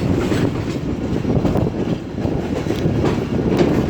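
The Shah Hussain Express runs along a single-line track while braking and switching tracks, a loud, close, continuous rumble of rolling wheels with rhythmic clatter and a faint squeal, one brief spoken word near the start.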